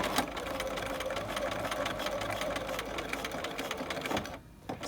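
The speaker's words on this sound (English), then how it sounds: "you want to make sure that everything sews correctly" A sewing machine runs steadily, stitching the second row of a piped pocket with a rapid, continuous mechanical whirr close by, stopping abruptly near the end.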